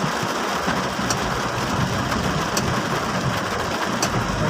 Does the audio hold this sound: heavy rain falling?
yes